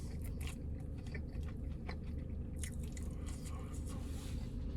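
Close, steady crunching and chewing of a KFC fried chicken sandwich, repeated bites over a constant low background hum.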